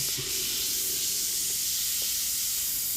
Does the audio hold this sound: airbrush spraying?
yes